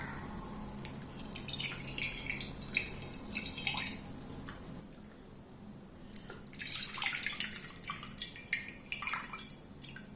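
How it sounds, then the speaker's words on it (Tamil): Tamarind being dissolved in water by hand for dal rasam, with close, wet squishing, dripping and splashing that comes in two bursts separated by a quieter gap. No one speaks. "இதில் முதல்ல புளி தண்ணியை கரைச்சிக்குவோம்."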